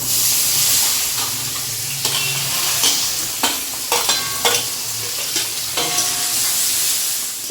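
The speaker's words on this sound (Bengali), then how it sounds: "এখানে তো পেঁয়াজটা ভাজা হয়ে গেছে লাল লাল করে" Onions fry in ghee added to leftover potato-frying oil for a homemade biryani, a loud, steady sizzle close by, broken by repeated scraping strokes of a spoon stirring the pan.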